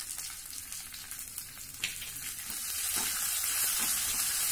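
A tempering of cloves, asafoetida and curry leaves sizzles in hot oil, a close frying hiss with stirring clicks that swells louder toward the end.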